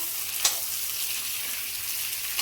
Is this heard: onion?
yes